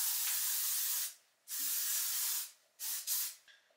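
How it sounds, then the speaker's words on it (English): Heat protectant spray misted onto dry hair, several close, hissing bursts of varying length, each broken by short pauses, with no talking. "I'm using this Moroccan oil heat protectant. I'm just spraying it on a dry hair"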